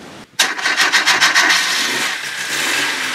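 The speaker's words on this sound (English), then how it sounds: "It'll probably start from the bit of fuel that's still in the carburetor, but it might cut out then straight away." Restored Opel Kadett engine cranking and firing up, running from fuel left in the carburetor with a short piece of exhaust fitted, a sudden start after a brief pause, rough pulsing revs then a steady idle, loud and close.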